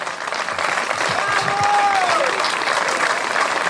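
A crowd applauds at a motor rally hill-climb award ceremony, steady close clapping throughout with a voice briefly heard over it.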